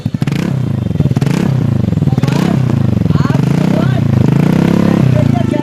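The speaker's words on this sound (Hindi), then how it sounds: "एक बार आपको हम ये वाला एग्जॉस्ट भी सुना देते हैं। ये एक्रापॉविक है," A TVS Ntorq BS6 scooter fitted with an Akrapovic exhaust revs close by, with a rough, raspy drone rising and falling in several throttle blips over about six seconds.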